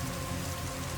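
Steady rain falling during a night of camping by a riverbank, a continuous dense hiss of drops close around with a low rush of flowing water beneath, even and unbroken throughout.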